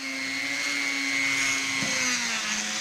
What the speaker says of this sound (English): Right now we're going over them with one of these little rubber wheels I have here.